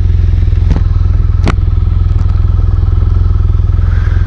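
A motorcycle idling loud and close with a steady low throbbing beat, two sharp metallic clunks as it is put into gear with the side stand up, then a few lighter clicks.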